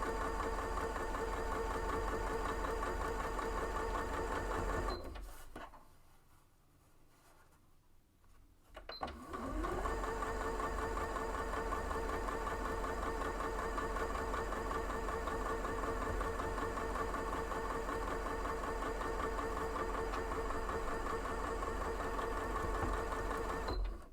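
Sewing machine stitching a backpack seam, a steady fast motor whir with a mechanical needle rhythm, running for about five seconds, pausing briefly while the fabric is adjusted, then resuming for a long continuous run.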